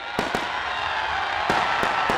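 Firecrackers burst at the Karaga festival, about half a dozen sharp, loud cracks in an uneven rhythm over a constant roar of crowd noise.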